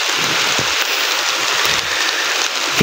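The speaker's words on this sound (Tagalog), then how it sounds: "Yan, umuulan-ulan na" Steady rain pattering on a surface, a dense even hiss with scattered droplet taps close by and no voices.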